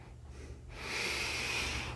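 One forceful, energizing breath drawn sharply in through the nose, a loud airy snort that swells after a quiet pause and holds for about a second, close and alone.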